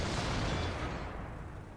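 In the World of Tanks game, a tank takes a heavy shell hit, heard as a loud, dense blast of broadband noise that fades gradually.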